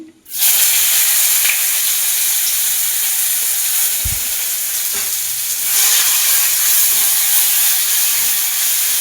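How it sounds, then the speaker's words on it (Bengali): Chopped onions hit hot oil, left from frying fish and tempered with cumin, with a sudden loud sizzle that settles into a steady, hissing fry, with a few faint clinks of a utensil. "এতে দেবো পেঁয়াজ কুচি"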